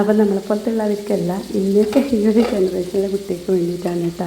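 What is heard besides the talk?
red spinach being stir-fried in a pan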